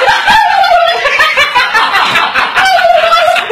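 A man imitates a turkey with his voice, giving a continuous run of warbling, gobbling calls that fill the moment loudly and close up.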